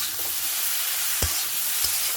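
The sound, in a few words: food frying in a pan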